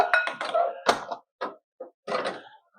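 A baking dish being handled in a kitchen, giving several short clinks and knocks in an uneven run, close and fairly loud with gaps of silence between.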